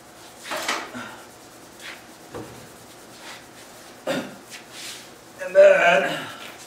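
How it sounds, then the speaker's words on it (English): Wooden drawers of a pine dresser pulled open one after another, several short scraping slides and knocks spaced apart, close by, with a louder rattling pull at the end. "I pull all the drawers open."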